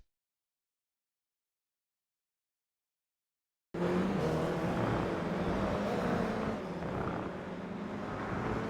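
After several seconds of silence, a steady roar of Toyota GR86 race cars on the Lime Rock Park track in the iRacing simulator cuts in abruptly and holds, easing slightly toward the end.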